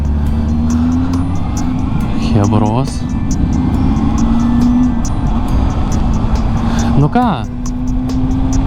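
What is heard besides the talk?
car driving, engine running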